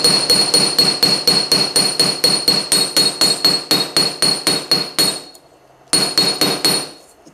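A texturing hammer strikes sheet metal to stamp a repeated pattern, producing loud, evenly spaced bright clangs in a rapid steady rhythm, a short pause, then a few more blows.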